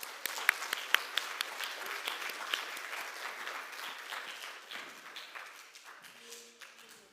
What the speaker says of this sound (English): let's give all of the session 3 speakers a nice round of applause